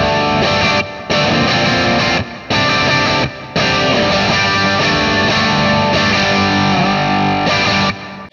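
Distorted electric guitar on the lead pickup through a Kemper 70s super lead profile and a fat head microphone, playing a loud, thick lead line with several brief pauses between phrases.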